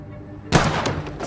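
A single sharp gunshot fired in the Vampyr video game after near-quiet, loud and close, followed by a lingering rumbling echo as the report decays.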